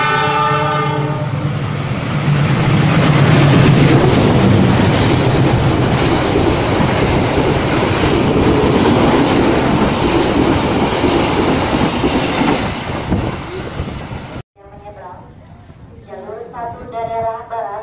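A train roars past at close range at Kranji Station in Bekasi, with a loud rushing rumble and horn blasts, then cuts off abruptly as voices talk over fainter rail noise.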